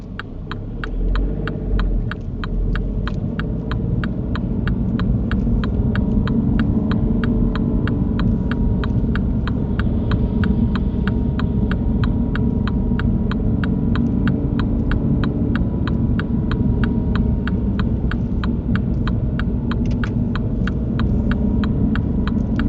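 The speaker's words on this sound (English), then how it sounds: "Listen to the engine as you go around, Amy. Poor cars screaming at you, telling you to change the gear." A car engine drones and throbs at high revs in first gear while circling a roundabout, a loud, sustained strain with a steady rhythmic ticking over it and no speech.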